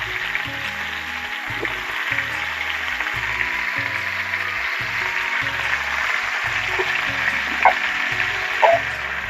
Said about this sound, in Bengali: এর মধ্যে কেটে রাখা আলু ফুলকপি একসাথেই ভেজে নিচ্ছি।